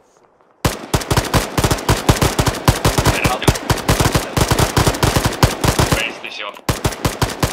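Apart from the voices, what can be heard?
machine gun fire in video game Arma 3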